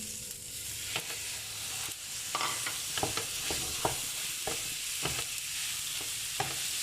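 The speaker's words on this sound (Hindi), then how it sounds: "अब मैं इसके ऊपर ये कीमा डाल देती हूँ जो मैंने ग्राइंड किया है" Ground chicken mince fries in butter on a hot tawa griddle, a steady close sizzle broken by repeated scraping and stirring strokes from a spatula, with no voices.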